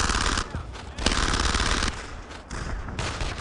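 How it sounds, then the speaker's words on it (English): Machine gun fire in the World War II shooter Brothers in Arms rattles in sustained bursts with short breaks, loud and close throughout. "That machine gun's opening up."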